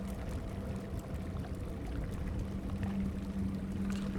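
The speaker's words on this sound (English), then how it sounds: "I'm right above the river here." Flowing river water in the block-building game Creativerse makes a continuous rushing, pouring wash with a low steady hum underneath, heard close and alone without talk.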